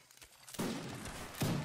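A musket volley in Mount and Blade Warband: Napoleonic Wars during a line battle, a sudden loud rolling crackle of massed shots after a quiet start, with a second burst near the end.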